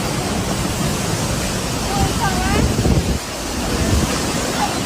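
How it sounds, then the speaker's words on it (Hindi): Floodwater running 2 to 3 feet deep over a bridge makes a loud, steady rush of broadband noise like surf with wind buffeting the microphone, briefly easing partway through. "पुल के ऊपर 2 से 3 फीट बाढ़ का पानी बह रहा था"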